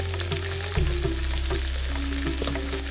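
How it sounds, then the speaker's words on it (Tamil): Two small chopped onions sizzle in hot oil in a kadai, a close, steady frying hiss with a brief surge as they go in and light stirring scrapes throughout. "நான் வந்து ஒரு மீடியம் சைஸ் வெங்காயம் சின்னதாக ஒரு 2 நம்பர் அதை நான் இதில் சேர்க்குறேன்."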